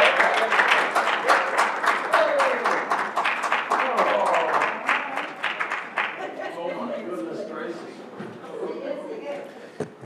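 Audience applause breaks out at a Rochester Board of Education business meeting award presentation, a dense burst of clapping that gradually thins and fades toward the end, with voices murmuring underneath.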